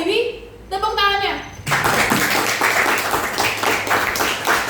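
An audience claps hands during a school drama about the fall of the New Order and the rise of Reformasi in Indonesia. A short stretch of speech comes first, then dense, continuous close applause.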